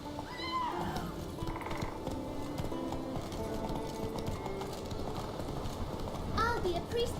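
Roach, a horse in the game Witcher 3, clip-clops along at a gallop with steady hoofbeats beneath game music and a voice, while someone speaks over the top.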